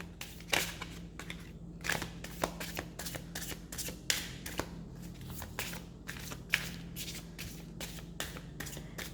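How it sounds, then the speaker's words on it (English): Tarot cards shuffled by hand in a steady run of crisp riffling flicks and soft slaps, close and fairly quiet, with no talking over it. "I'll do another shuffle just to make sure."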